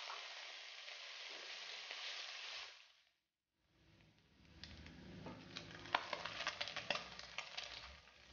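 Calabresa sausage and bacon sizzle in a pan, a steady crackling fry that cuts out briefly, then returns with sharper pops and spatters, moderately quiet and close.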